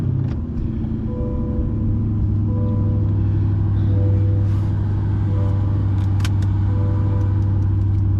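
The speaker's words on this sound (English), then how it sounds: "So let's get this thing started up." A Chevrolet C8 Corvette idles after starting up, its engine giving a steady low rumble close by, with a few faint clicks and light jingles over the continuous drone.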